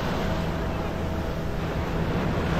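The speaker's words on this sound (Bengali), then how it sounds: "ওয়াটার বাইক, আমি মনে হয় দেখাতে পারছি" Steady wind and surf noise at the seashore in Puri, with a low engine drone from a water bike blending into the continuous roar.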